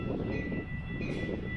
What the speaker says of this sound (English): most of these trains this time of day are commuter trains from the city of Chicago